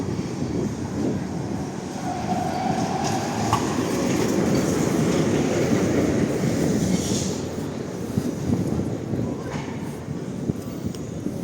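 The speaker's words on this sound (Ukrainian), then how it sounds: "А тим часом трамвай номер 2" A tram passes nearby in a city centre in Lviv, a broad steady roar with faint rail clatter and a brief squeal, swelling in the middle then easing off.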